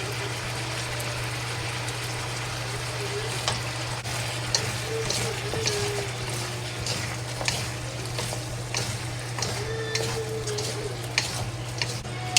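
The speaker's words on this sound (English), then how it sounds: "We keep frying." Chicken pieces and potatoes fry in a pot over high heat, giving a steady, close sizzle with scattered clinks and scrapes of stirring over a constant low hum.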